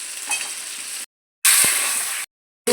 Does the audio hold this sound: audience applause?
no